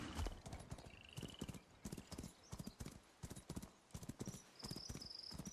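Steady clip-clop of horse hooves trotting at an even rhythm in a video game, with brief whinny-like tones, quiet and alone.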